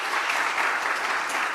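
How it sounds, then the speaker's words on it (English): Audience applause at an immunotherapy conference in Argentina, steady dense clapping from a large crowd filling the whole moment at an even loudness. "an applause to all my lab"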